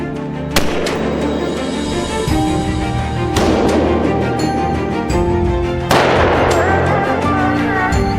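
Three loud, sharp gunshots spaced a few seconds apart in the misty mountains of the Victoria Highlands, each followed by a long rolling echo that fades over a steady ambient background, with music or low drones underneath.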